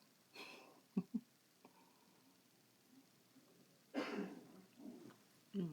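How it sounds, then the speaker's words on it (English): A man coughs a few times in short bursts, quiet and somewhat distant, with a pause between the first pair and a later harsher cough. "Husband coughing."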